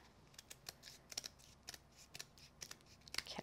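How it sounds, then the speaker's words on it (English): Scissors snip close up as card is trimmed away around a frame in a papercraft project. The cuts come as a quiet, irregular series of short crisp strokes with no talk over them. "So you're just going to angle your scissors around this and trim it away."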